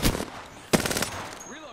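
Video game gunfire: two sharp, loud bursts of rapid automatic shots about half a second apart, followed by a fading ring.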